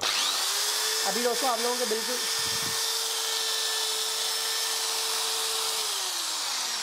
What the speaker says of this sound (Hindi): अभी दूसरे नंबर पर बारी आ जाती है मकीटा के इस ड्रिल को टेस्ट करने की